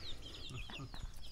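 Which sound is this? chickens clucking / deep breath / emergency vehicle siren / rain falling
chickens clucking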